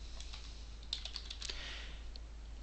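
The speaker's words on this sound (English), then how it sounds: "and then I type in quantity" Computer keyboard typing while entering a label into an Excel spreadsheet: a quiet run of soft, irregular key clicks, a few slightly sharper taps standing out, with no talking.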